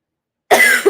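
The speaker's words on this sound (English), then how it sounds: "this cough is kind of bad sometimes" After a moment of silence, a single loud, close cough bursts out, rough and breathy, with a short second push at the very end.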